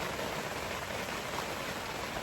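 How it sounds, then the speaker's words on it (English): Steady rain falls at a reservoir, an even, dense patter with no breaks, close and moderately loud, with no voices. "It's raining."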